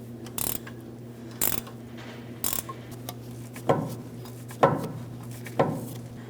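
A ratchet tightens the front ball joint studs on a 2015-2025 Ford Transit 250, giving short bursts of clicking repeated about half a dozen times over a steady low hum, close and moderately loud.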